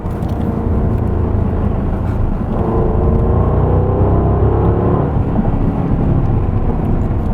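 A Jaguar XKR Coupe's 5-litre engine accelerates hard from inside the cabin, a loud, steady, continuous low roar that holds for several seconds.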